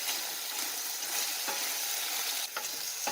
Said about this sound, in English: I'll just saute it until it softens a little bit.